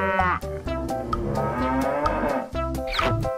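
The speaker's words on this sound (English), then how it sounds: "cow," A cartoon cow gives several drawn-out moos, loud and close, over light playful music with short breaks between calls.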